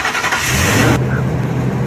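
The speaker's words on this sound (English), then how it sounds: "Your truck is making a weird ass noise." A Ford truck engine making an odd noise: a steady low rumble with a broad rushing hiss that cuts off abruptly partway through, leaving the engine drone running alone.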